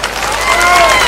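Audience applause at a Kannada comedy skit show, a dense continuous wash of clapping that swells slightly and holds steady, loud and close with a faint tonal layer beneath.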